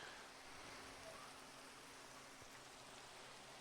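Steady rain falling in the Minecraft video game, a constant even hiss of static-like patter that holds without pause throughout, fairly quiet and uniform with no talk over it.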